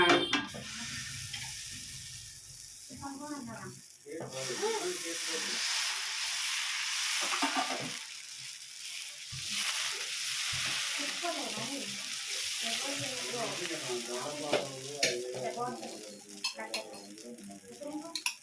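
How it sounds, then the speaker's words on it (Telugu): Dosa batter fries in oil on a pan as grated carrot is sprinkled over it, giving a continuous hissing sizzle with occasional utensil clinks. Someone talks over the cooking throughout. "నూనె వేస్తున్నాను ఫస్ట్ నూనె వేసి ఆ పైన మళ్ళీ ఇప్పుడు క్యారెట్ చల్లుతున్నా"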